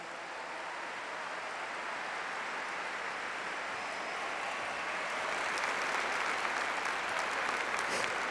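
A church congregation applauds during a sermon, a dense, sustained wash of clapping that builds slightly louder toward the end, heard from within the hall without any voices over it.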